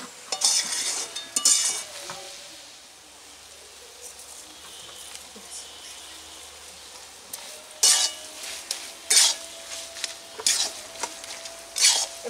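Banana stem curry is stirred in a pan in bursts of bright metallic scraping and clinking, separated by a quieter stretch of low simmering sizzle.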